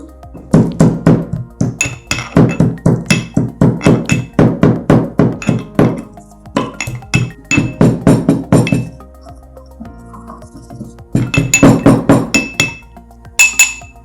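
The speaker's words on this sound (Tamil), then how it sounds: "இப்போ இது எல்லாத்தையும் நம்ம போட்டு இடிச்சு எடுத்துக்கலாம்." Whole masala spices for a prawn salna are pounded to powder by hand in a mortar, a long run of loud, close, rhythmic thuds with brief pauses between rounds of strikes.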